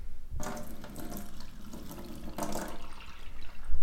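Water pours from a Dualit classic electric kettle into a cup in two short splashy streams, close up, with a brief pause between.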